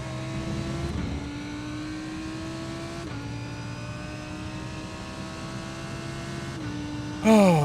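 A race car engine in a racing video game set at Sebring drones loudly and steadily at high revs, dropping in pitch at three gear shifts before a sharp final burst, with no talking.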